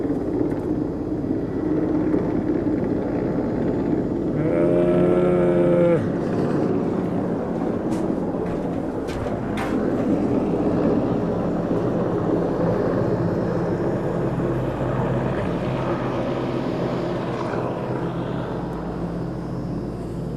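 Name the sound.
helicopter landing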